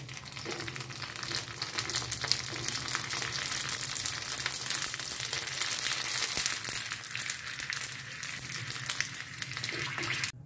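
Fuchka puris frying in hot oil in a home kitchen, a dense continuous sizzle and crackle at moderate volume with occasional clinks and scrapes, no voices.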